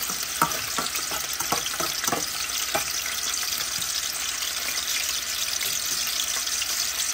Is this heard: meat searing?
yes